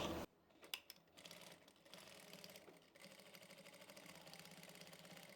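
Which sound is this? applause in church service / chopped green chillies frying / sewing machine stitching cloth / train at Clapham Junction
sewing machine stitching cloth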